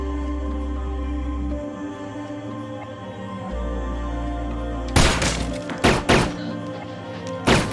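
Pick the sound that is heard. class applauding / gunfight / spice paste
gunfight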